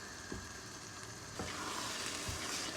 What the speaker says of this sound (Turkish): soğanlarım iyice pişene kadar ben bunu kavurmaya başlıyorum